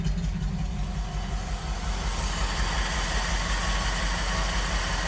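A 1958 Dodge Power Wagon W200 3/4 ton truck with dual exhaust runs at a steady, loud, rumbling idle with a low pulsing throb, recorded close with no talk.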